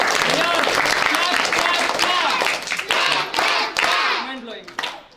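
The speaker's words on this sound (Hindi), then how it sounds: "बहुत अच्छा, ताली बजाओ उसके लिए।" A class of children claps for a classmate after a spelling exercise in a village English lesson, a dense burst of applause that thins out toward the end, with a teacher's voice briefly heard.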